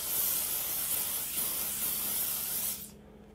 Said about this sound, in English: spray it onto your complexion,